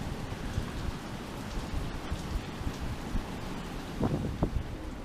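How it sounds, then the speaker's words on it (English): Steady heavy rain pours down through a thunderstorm with strong gusting wind, a dense continuous hiss, and a couple of brief louder bursts near the end. "This storm is still going on."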